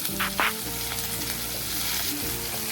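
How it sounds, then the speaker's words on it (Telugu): Chopped onion and curry leaves fry in hot oil in a pan, giving a steady, close sizzle with light stirring scrapes near the start and no voices. "ఆనియన్ ఎక్కువ ఫ్రై అవ్వకూడదు, కొంచెం పచ్చిదానం పోయేంత వరకు."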